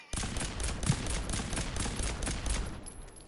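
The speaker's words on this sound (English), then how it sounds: "We got the Gauss pistol back." Gauss pistol fire in Fallout 4: a loud, dense burst of rapid shots and blasts that runs without a break for about three seconds, with no talking over it.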